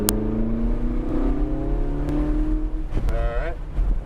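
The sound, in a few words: race car engine accelerating on track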